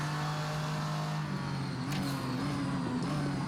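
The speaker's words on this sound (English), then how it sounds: "Nice auto blip on the downshift there" Racing car engine of a VRC Vendetta V60 in Assetto Corsa, loud and steady, with a sharp throttle blip on a downshift about midway before the engine note settles and climbs again.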